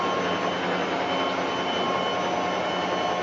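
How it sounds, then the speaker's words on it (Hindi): A 2-in-1 pulverizer masala grinder machine grinding whole coriander seeds, a loud constant broadband roar with a harsh, gritty texture running without pause and no voices. "ग्राइंडिंग का काम है ये शुरुआत हो चुकी है।"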